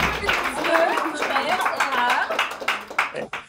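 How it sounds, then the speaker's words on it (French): A stand-up comedy audience gives a brief burst of clapping that thins out as a nearby voice keeps talking over it. "Un dernier applaudissement."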